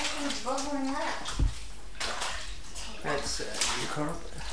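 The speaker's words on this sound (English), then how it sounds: "Ooh, it's bubbling. Everything's bubbling up." Floodwater bubbles and sloshes inside a house flooded in 1993, a continuous gurgling wash close by. People talk over it throughout.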